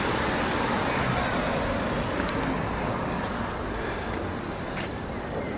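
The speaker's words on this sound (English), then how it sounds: "there's a car coming" A car passes along a street lined with old buildings in East Grinstead, West Sussex, a steady roadway rumble filling the whole stretch at moderate loudness.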